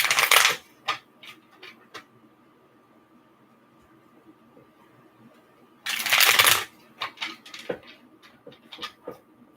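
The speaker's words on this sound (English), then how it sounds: "Let me do another shuffle here." Two bursts of tarot cards being shuffled, near and crisp, each followed by scattered soft taps and flicks as cards are handled; no talking.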